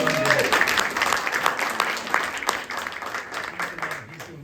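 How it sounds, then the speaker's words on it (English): A small group claps in the governor's office during a proclamation signing, a brisk patter of applause lasting several seconds with voices chatting and cheering underneath. "Give him a round of Yay. applause."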